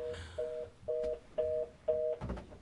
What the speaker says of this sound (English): I didn't even know there was a phone underneath here.